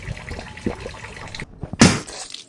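Water thrown onto someone in a cartoon scene, a single sharp loud splash near the end after a stretch of quiet rustling and small noises.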